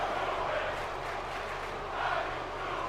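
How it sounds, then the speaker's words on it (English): A wrestling crowd cheers and chants "How you doing" for Enzo in the WWE 2K18 video game, at a SmackDown Live arena in East Rutherford, NJ. A dense, steady roar with no pauses swells slightly toward the end. "the WWE fans cheering on Enzo with the "How you doing" chants"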